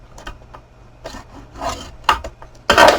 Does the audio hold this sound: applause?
no